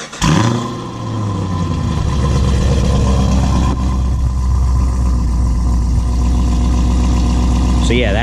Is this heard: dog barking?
no